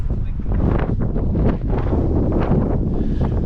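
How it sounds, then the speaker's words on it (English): Wind gusts across an orchard being planted on wood chip ground, a loud rumbling buffet against the microphone with fluttering bursts and faint voices underneath. "It's getting windy now."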